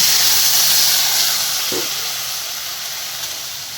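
Water splashes onto frying greens in a hot pan, releasing a loud, broad hiss of steam right at the start that slowly fades over a few seconds.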